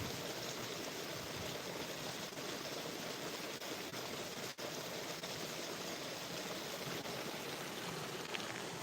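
A glacier-fed river flows below peaks near Gulmit, giving a continuous, even broadband rush that is moderately loud and unbroken for the whole stretch, with no voices.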